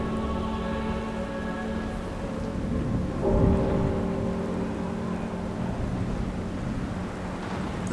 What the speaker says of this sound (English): As the tempest rages, rain falls in astonishing abundance with the ferocity of a hurricane.